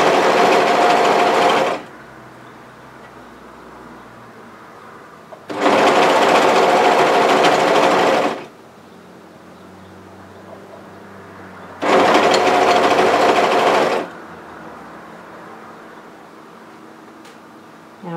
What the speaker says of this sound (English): and then I'm stitching on the edge